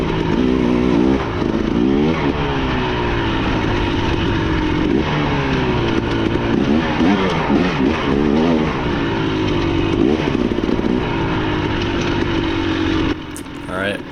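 A 300cc two-stroke dirt bike engine lugging in a low gear on a trail loop, a continuous close buzzing drone with repeated rising and falling revs, loud and steady throughout and cutting off near the end.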